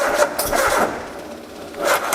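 A carburetted 1600 Z-Tech engine being cranked over in a workshop on a somewhat low battery, rasping starter bursts that rise and fall, close and fairly loud.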